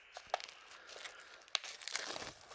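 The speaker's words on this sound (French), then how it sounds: "Donc on va déballer l'édition." Steelbook edition of Mickey 17 being unwrapped, with soft, quiet crinkling and tearing of plastic film in scattered bursts and a couple of sharper crackles, no talking.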